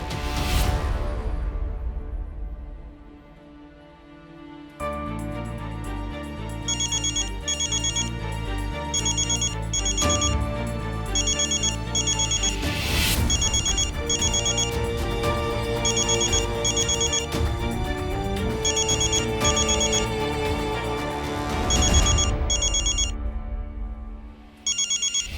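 A phone ringtone plays continuously with a steady repeating electronic melody, loud and close after a short quiet lead-in, ringing for a long stretch without any voice over it.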